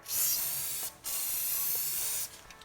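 Dupli-Color Tireshine aerosol sprays a hissing coat onto a truck tire in two long close bursts, with a brief pause between them, then a couple of faint short puffs.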